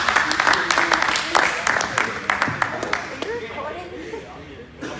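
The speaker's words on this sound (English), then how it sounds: "Clap it up, boy." Students at a university prep session clap for a few seconds, a burst of crisp, scattered handclaps that thins out as talking takes over and continues to the end.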